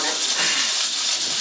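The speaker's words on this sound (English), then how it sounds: "Sorry about the sound of the canner." A canning pot on a home kitchen stove gives off a loud, continuous steam hiss that stays steady and close for the whole moment.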